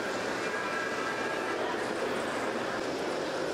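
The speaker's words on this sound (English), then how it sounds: "Trains do meander through the canyon floor here." A model railroad train runs through a canyon scene at the Jingle Rails folk-art display, a steady continuous rolling rumble and hiss of wheels on track with no voices.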